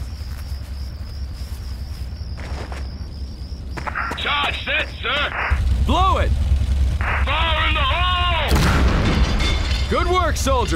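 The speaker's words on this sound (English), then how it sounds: "Get a C4 charge on that tank trap." In the video game Conflict: Desert Storm, a C4 charge blows up a tank trap, heard as a loud boom and heavy rumble that builds midway, with radio-style voices and whistling tones over steady engine noise.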